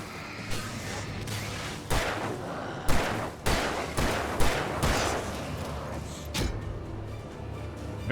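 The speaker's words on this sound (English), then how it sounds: "maybe I should just use the shotgun?" Shotgun blasts in Alan Wake Remastered, about eight heavy booming shots spaced irregularly, each followed by a brief decaying roar.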